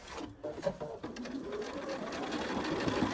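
A sewing machine stitches pieced quilt fabric for an Alabama Beauty poinsettia block, its motor humming steadily and close by, building slightly in intensity over a few seconds with no talking.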